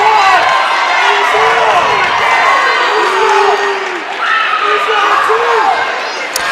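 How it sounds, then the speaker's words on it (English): Basketball crowd at a boys' high school game between Crawfordsville and Danville, responding after a double technical foul: a steady, loud roar of voices with rising shouts and whoops throughout, people talking within the din. "that definitely livened up the crowd a little bit"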